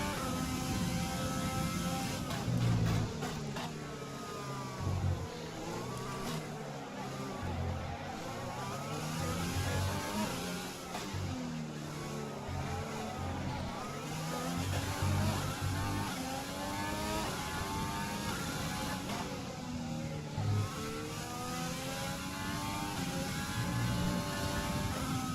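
A Formula 1 car engine in F1 2020 at the Mexican Grand Prix wails steadily, rising and falling through gear changes across the whole stretch. Its loud, continuous whine sweeps up and down with each shift.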